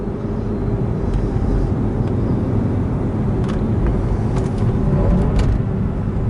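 A 1997 Audi A4 B5 2.8 V6 engine hums and rumbles steadily at close range while accelerating, a dense low growl holding throughout with faint clicks above it.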